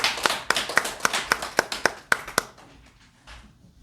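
Audience clapping to welcome a speaker: about nine distinct, evenly spaced loud claps in a steady rhythm, then fading to quiet room tone.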